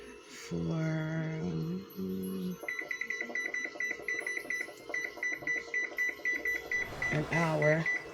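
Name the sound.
kitchen timer beeping as it is set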